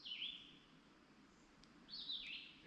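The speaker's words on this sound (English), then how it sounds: "Birds are singing." Two short bright bird songs ring out in a quiet, rain-damp hemlock forest beside a reservoir, each a quick descending phrase, faint and moderately distant over soft background hush.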